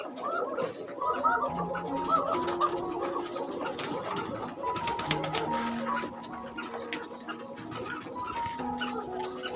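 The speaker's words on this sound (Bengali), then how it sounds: "তাছাড়া অন্যান্য রুমেও অসংখ্য কোকা কবুতর আছে।" Koka pigeons in a busy pigeon loft fill the air with steady, overlapping cooing, near and continuous, with a few faint chirps mixed in.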